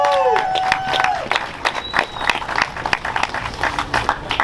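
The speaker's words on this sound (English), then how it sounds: "give yourself a round of applause for being the true Texas spirit" A crowd gathered in a plaza at a Texas rally applauds and cheers loudly, steady dense clapping that carries on for several seconds, with a brief tone sounding near the start.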